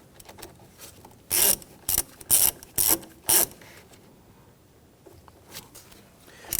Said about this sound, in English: Snug down the securing nut here.